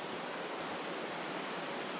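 Steady broadband rush of the Dosewallips River flowing right beside a forest trail in Washington, constant and fairly faint with no other sounds.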